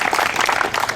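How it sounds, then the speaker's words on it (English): A short, dense burst of audience applause follows the speakers at a university divestment meeting, with steady clapping filling the moment. "Let's hear a big round of applause for both of them."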